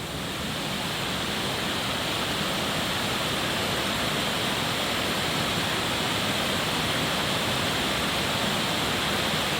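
Steady rushing water from a small waterfall inside a cave roars continuously, a full, unbroken hiss of falling water that fills the space without pause or voices.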